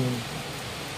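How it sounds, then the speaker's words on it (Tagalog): Heavy rain falls at night, a steady dense hiss of rainfall filling the brief moment, continuous and even without any talk. "Ang lakas ng ulan, guys."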